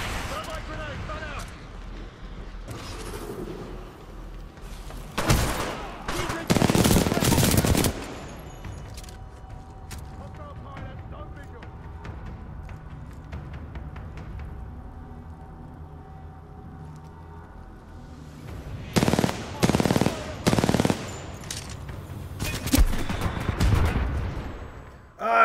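A thermite grenade and gunfire in the video game Titanfall 2, with loud bursts of rapid firing and blasts in two separate clusters, separated by a quieter stretch of low rumble and ambient game noise.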